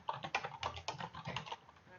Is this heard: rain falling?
no